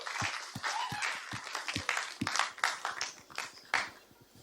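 An audience at a church gathering claps, scattered individual hand claps forming light, irregular applause that swells and fades at moderate distance, with a few faint voices underneath.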